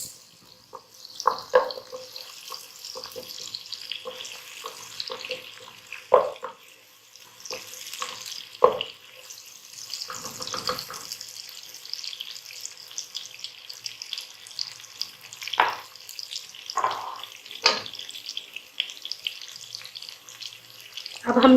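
Green onion frying in a pan while the flame is turned up, a light sizzle broken by a few louder clattering stirs and scrapes, close by.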